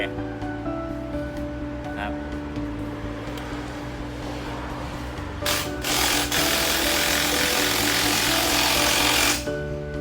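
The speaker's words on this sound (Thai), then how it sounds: "ปั๊มทำงานเรียบร้อยนะครับ" A 2016 Yamaha R15 motorcycle with an intermittent starting fault, its fuel pump whirring after the ignition is switched on: a steady mechanical hum under electrical whine, then a louder broadband whir for several seconds before dropping off.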